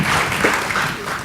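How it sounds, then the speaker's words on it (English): Audience applause at an ASSAP 2012 event, a brief dense burst of many hands clapping at once, close and loud, lasting just over a second. "Please give them an applause."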